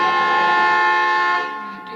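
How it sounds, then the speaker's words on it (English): A car horn blaring in one long, loud, steady blast for nearly two seconds, fading slightly at the end, with no talking over it. "What are you honking now for?"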